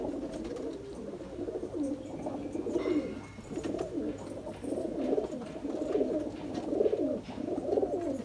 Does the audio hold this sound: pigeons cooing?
yes